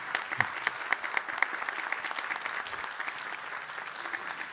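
An audience gives Rick Koster of The Day a sustained round of applause, dense clapping that holds steady throughout without any talk.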